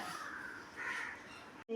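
A crow caws repeatedly near a home where bun has been set out for it, the harsh calls mixed with people talking and a brief silence near the end.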